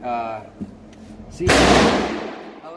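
A Walther Creed 9mm pistol firing 124 grain rounds lets off a single sharp, loud, close report that decays into a short ringing tail, with speech heard briefly before the shot.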